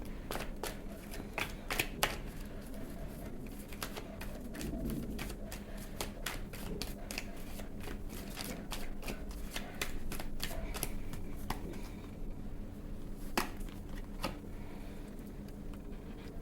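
Tarot cards being shuffled during a Hindi reading, a steady run of crisp riffling and flicking card snaps lasting throughout, close and moderately quiet with no talk.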